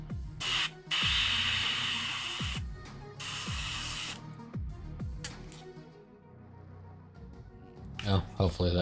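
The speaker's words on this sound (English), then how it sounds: "Because I am not used to using this airbrush yet." An airbrush sprays paint onto a Dreadnought model in bursts of hissing air, with short pauses between passes and a person talking in between.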